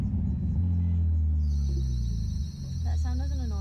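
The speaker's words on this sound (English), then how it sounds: "That annoying sound that's coming from your car." A car gives off a persistent annoying noise, a low droning rumble with a thin high whine above it, while people talk over it nearby.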